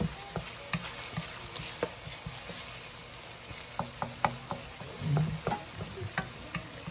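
Pork dinuguan frying in a pan, a continuous soft sizzle with repeated scraping stirs and clinks of the utensil against the pan, fairly close and alone without talk.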